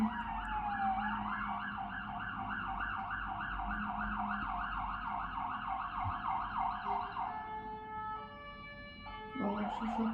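Emergency vehicle sirens wail close by at a road accident scene involving an ambulance, one rising-and-falling siren cycling continuously before shifting to a steady tone and a new sweep, loud over road noise.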